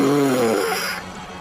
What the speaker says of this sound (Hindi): तभी उनको किसी के सांस लेने की आवाज सुनाई दी।